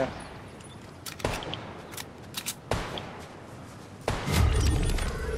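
Sharp gunshots from a Fortnite battle in a Chapter 4 Season OG duos match, several scattered cracks and thumps, some distant, ending in a louder rumbling burst.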